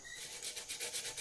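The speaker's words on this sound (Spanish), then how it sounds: "Ya la pintura está seca, vamos a estar usando una lija para alijar la decoración que tiene la lata" Sandpaper rubbing over the painted rim of a metal can, scuffing the decoration back to bare shine; a soft, steady abrasive hiss in repeated back-and-forth strokes, close and fairly quiet.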